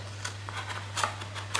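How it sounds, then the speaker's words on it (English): Scissors snip off cardboard tabs on a chocolate gift box, giving soft close cutting rustles over a low steady hum, then a sharp final snip at the end. "you can get in with your scissors and just snip that off there"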